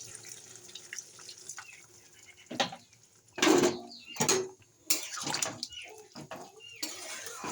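Water is poured in splashy bursts into a pan of sautéed soybean curry, several uneven pours and trickles over a faint background hiss, close by and without talk.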